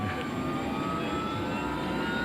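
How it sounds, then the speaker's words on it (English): Steady, loud aircraft roar from inside a helicopter in flight toward a hospital, a continuous engine and rotor drone with no break across the whole stretch. "Now we're in the helicopter flying towards the hospital."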